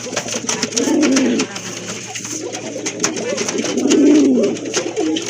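Pigeons for sale at a pigeon seller's coo nearby in low, rolling bursts, two clear bouts with a quieter stretch between them.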